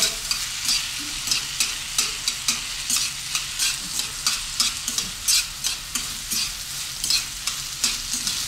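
Rice is stirred with Japanese mirin in a hot pan, loud close sizzling under a steady run of rhythmic scraping strokes from the spoon, with no voices.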